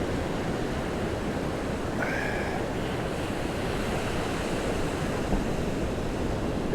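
Rough ocean surf at a fishing spot, a constant loud wash of breaking waves mixed with wind buffeting the microphone, with no speech.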